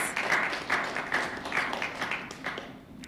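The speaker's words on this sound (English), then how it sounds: "Give them a round of applause." An audience at a tourism ministers' council meeting claps and applauds steadily for a few seconds, a dense patter of many hands at moderate volume, no voices over it.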